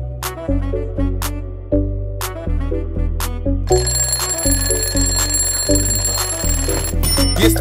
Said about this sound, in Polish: Jest piątek, dzwoni znów budzik.